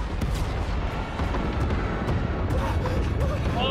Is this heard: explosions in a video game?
yes